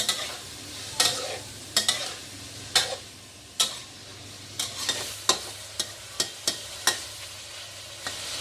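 Ingredients are dry-roasted and stirred in a pan until golden. A low, steady sizzle sits under repeated sharp scrapes and taps of a utensil against the pan, irregular at first and then quicker near the end.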